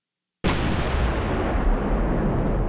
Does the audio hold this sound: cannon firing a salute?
yes